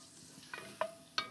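Anchovy, garlic and crushed pepper in a pan with a faint, steady sizzle, broken by a few short scraping stirs and clinks close by.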